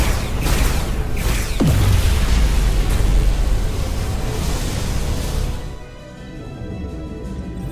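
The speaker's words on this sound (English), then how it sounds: "Whoa! Dilithium explosion." Dilithium crystal explosion in the video game Star Trek: Resurgence: a loud roaring burst with a deep descending boom early on, followed by sustained rumbling noise that cuts off sharply and leaves a quieter hum.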